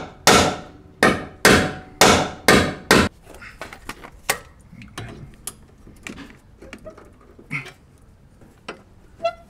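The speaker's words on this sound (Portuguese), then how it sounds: "Vou ter que desempenar esta merda a martelo." Five loud, evenly spaced hammer blows ring on a bent metal part of a Lexus, followed by scattered lighter clinks and taps of tools.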